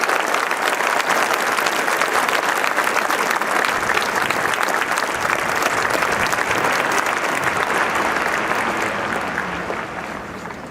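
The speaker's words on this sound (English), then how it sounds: "how about a round of applause for the class of 1966" A large crowd at the West Point graduation ceremony for the class of 2016 gives a long, dense round of applause that stays loud and even for about ten seconds and then starts to fade.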